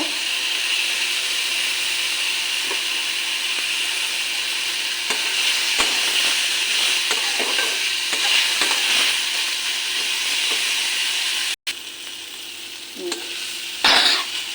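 Mixed vegetables including ridge gourd and pumpkin, with spiced masala, fry in a pan with a constant loud sizzle while a spatula scrapes and stirs in irregular strokes, with a brief clatter near the end; no speech.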